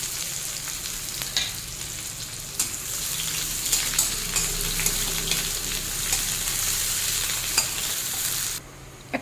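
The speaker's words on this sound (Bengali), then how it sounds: "এই সময় ফ্লেমটা একটু লোতে রাখবো যাতে করে পেঁয়াজটা ভালোভাবে একটু ভাজা হয়ে যায়" Sliced onions fry in oil with whole garam masala of cinnamon, clove, cardamom and bay leaf, giving a continuous close sizzle with scattered pops and stirring clicks over low flame, no one talking.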